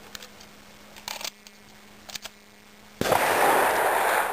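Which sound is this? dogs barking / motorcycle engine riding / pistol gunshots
pistol gunshots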